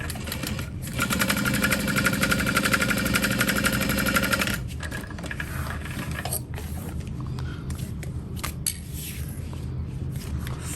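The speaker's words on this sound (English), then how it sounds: "I'm just going to sew that together along the top." A sewing machine stitches a seam across the top of backpack fabric, a fast, steady, close mechanical whir that runs for several seconds and then stops, followed by quieter handling noise and faint clicks.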